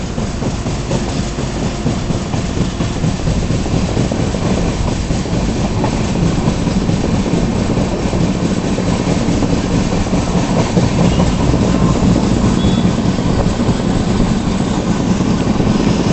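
Andhra Pradesh Express running through Telangana between Visakhapatnam and New Delhi, a steady loud rumble with continuous clickety-clack of wheels on rail joints, close and unbroken throughout with no talk.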